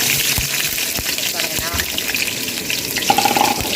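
Chopped onions fry in hot oil, a bright crackling sizzle with small pops and stirring, close and fairly steady throughout.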